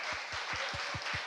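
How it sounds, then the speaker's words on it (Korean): A church congregation claps during a Sunday morning worship service, heard as a fairly faint, even wash of applause with a regular low pulse running beneath it. "우리 아버지 되신 우리 하나님께 마지막 박수로."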